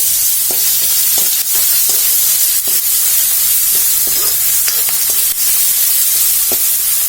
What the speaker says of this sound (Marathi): उडदाची डाळ आपली थोडीशी तांबड्या रंगाची झाली आहे, आता मी त्याच्यामध्ये कांदा घालते